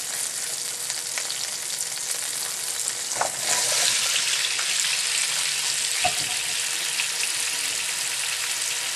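Carrots and potatoes being added to a pot of sizzling top sirloin stew, a dense steady frying hiss throughout with a few soft clunks and stirring sounds, no voices.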